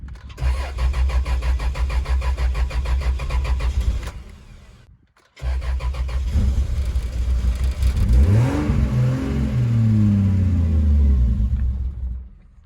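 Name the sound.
2JZ engine swapped Jeep starting and idling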